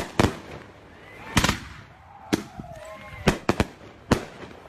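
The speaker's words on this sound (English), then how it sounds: "Throwing fireworks." Fourth of July fireworks: about seven sharp, loud bangs at irregular intervals, some close together, each followed by a brief crackling decay against a quieter background.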